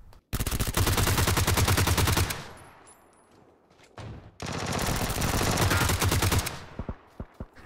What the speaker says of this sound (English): And we hear some gunfire